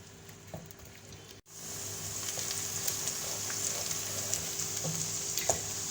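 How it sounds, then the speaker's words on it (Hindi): Onions dropped into hot oil in a kadai, a sudden hiss swelling into a steady close sizzle with small pops and occasional stirring, no talking. "ऑयल गरम हो जाएगा तो मैं इसमें ये प्याज डाल दूँगी।"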